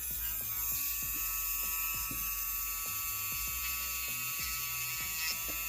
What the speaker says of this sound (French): je vais utiliser un embout boule pour faire ma cuticule